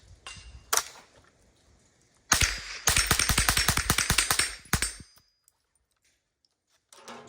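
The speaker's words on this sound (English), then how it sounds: "We're going to hit some steel right in front of us." Rapid gunshots ring against steel targets, a quick burst of sharp metallic clangs after a couple of single hits, then silence and a faint last shot.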